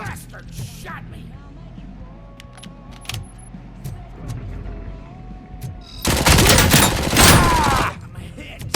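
Gunfire in the PC game Robocop: Rogue City (2023): scattered shots and clatter build into a loud, sustained automatic burst near the end, with brief voices in between.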